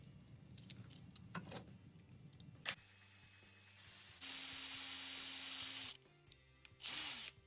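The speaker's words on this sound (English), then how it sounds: "Let's get started by drilling the mounting post." A power drill bores into the mounting post of an old 1:64 die-cast 1969 Dodge Charger: a few seconds of handling clatter, then a steady, close, high whirring drill run with brief pauses and a final short burst.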